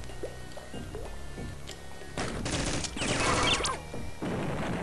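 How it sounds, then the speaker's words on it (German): Machine gun fire in the game Metal Blob Solid, starting with scattered game sounds and then breaking into a dense, loud stretch of rapid gunfire bursts in the second half, with no talking. "Und Maschinengewehr."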